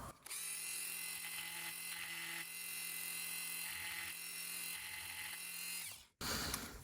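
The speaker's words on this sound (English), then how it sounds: "let's go back to the Dremel a little bit" Dremel rotary tool carving the edge of a knife handle, a steady high-pitched whirring hum that wavers slightly in load as it cuts, then cuts off abruptly near the end.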